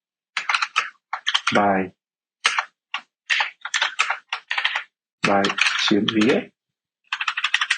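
Computer keyboard keys tapped in quick bursts while entering a project title, close and clear, with someone speaking briefly between the typing runs.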